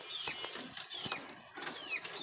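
Wild jalali pigeons in Dhaka flap their wings in several brief, soft fluttering bursts, with faint high bird chirps over a quiet background.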